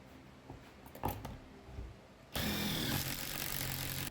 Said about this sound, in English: I just used pocket hole joinery to hold it all together.